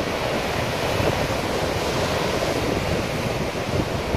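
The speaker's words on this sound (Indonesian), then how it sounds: "Wuih, ombak semakin ganas, bang." Rough, heavy ocean waves crash against a cliff where people are fishing on the Australian coast, a loud continuous roar of surf and spray mixed with wind buffeting the microphone, with no pauses.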